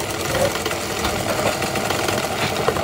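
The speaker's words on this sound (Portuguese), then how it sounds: "O barulho da máquina de costura se escuta desde a entrada da associação." A sewing machine runs continuously in an artisan crafts association's workshop, giving a steady mechanical whir and rattle at moderate loudness throughout.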